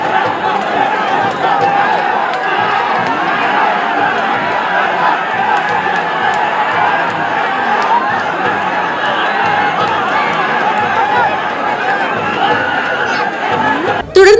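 Crowd of devotees roaring and chattering during a temple festival kalasham procession with Theyyam rituals, a dense continuous wall of voices close and loud throughout, with a brief burst at the end.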